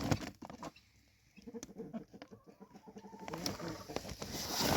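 A bearded hen clucking among other chickens, soft irregular clucks and short calls, fairly close, with light background noise that grows louder toward the end.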